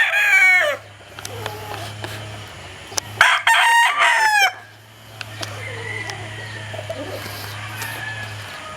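Kelso gamefowl roosters crowing in a yard: a loud, close cock-a-doodle-doo at the start and another strong crow midway, followed by fainter distant crows and occasional clucks over a steady low hum.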